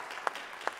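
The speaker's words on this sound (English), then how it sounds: "Let's give another round of applause for Maquila and Vandita" A church congregation claps during a Sunday service, the brief moment dominated by two sharp, distinct claps spaced under half a second apart over a soft background of scattered clapping.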